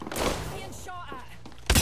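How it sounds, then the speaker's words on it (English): Gunfire erupts in an Apex Legends match: rough broadband bursts open the moment, then a louder, sharper volley hits at the very end, with faint voice-like sounds in between. "Being shot at."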